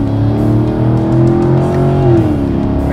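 A 2016 Chevrolet Camaro SS engine pulling hard under acceleration on a warm-day drive, a loud, steady droning roar with a rising pitch heard from inside the car.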